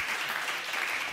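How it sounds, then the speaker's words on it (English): An audience at a stage event claps to welcome a speaker, a dense, continuous patter of many hands filling the room at a steady level. "This is your round of applause to welcome you here on stage"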